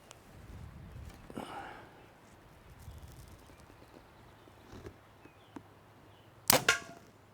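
An arrow fitted with a Magnus 125 single bevel broadhead strikes a solid concrete block at 10 yards with a sharp, loud crack near the end, after quieter rustling and faint low voices.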